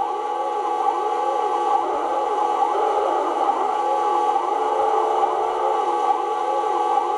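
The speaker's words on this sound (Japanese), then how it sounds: "なんか音がうるさいなと思ったら、パトカーか。" A police car siren in an arcade racing game wails in a steady, repeating up-and-down sweep, held at an even level for the whole stretch over a constant game engine drone, with no talking.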